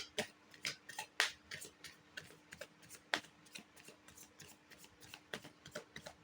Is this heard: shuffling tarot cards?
yes